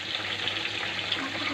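Chicken roast frying in oil with ground spice paste, dried chillies and lemon, a steady close hiss and sizzle with no pauses.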